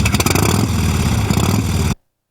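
A Harley-Davidson motorcycle engine runs with a loud, deep, steady throbbing roar close by, holding for about two seconds before cutting off abruptly into silence.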